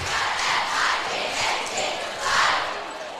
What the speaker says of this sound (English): This crowd has been at full voice for, well, ever since we got here